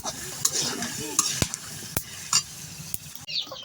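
Meat sizzles in a hot pan while a utensil stirs and scrapes against the metal, producing several sharp clinks over a continuous close frying hiss.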